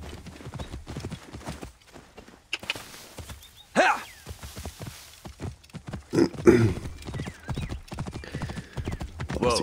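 Horse hooves clip-clop at a steady walking pace in Assassin's Creed Origins, with a couple of whinnies and snorts breaking through amid a quiet game soundscape.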